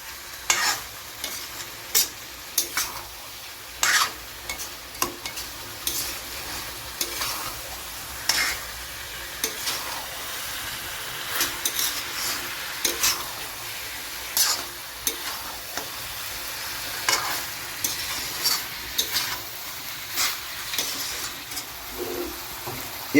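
Chicken coated in masala is stirred in a pan, with repeated scraping strokes over a low steady sizzle at close range for the whole stretch.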